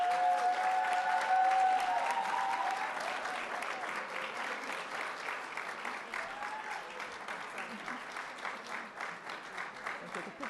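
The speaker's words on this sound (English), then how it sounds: "Give them a round of applause" A graduation crowd applauds ten graduates in a long, sustained round of clapping that swells and then settles into a steady rhythm, with a voice briefly audible over it at the start.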